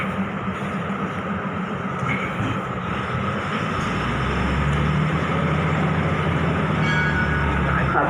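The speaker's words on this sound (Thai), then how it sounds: "401ก็ออกแล้วนะครับ" A local train, number 401, pulls out of Chum Saeng station in Thailand, its steady rumble and rolling rail noise growing closer and louder across the scene, joined by a low droning tone partway through.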